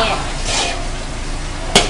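Oyster mushrooms stir-fried in a pan make a steady close sizzle with soft stirring scrapes throughout, and a short sharp clink of a utensil against the pan comes near the end.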